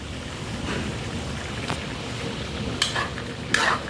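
Food stirred in a pan over a used-oil burning stove gives a continuous soft sizzle, broken by a few sharp scraping clinks of the utensil against the pan near the end. The sound is close and moderately loud, with no voices.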